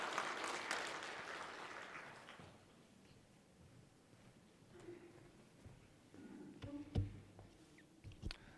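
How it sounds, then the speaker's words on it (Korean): Church congregation clapping to welcome a member at a Sunday service: a loud burst of applause for about two seconds that then fades out, followed by faint scattered knocks and small clatters. "우리 박수로 다시 한번 환영하도록 하겠습니다"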